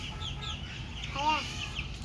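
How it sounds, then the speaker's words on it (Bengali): Chickens clucking nearby, a few short clucks and squawks over low background noise. "আবার মুরগি ছেড়ে দিয়েহি"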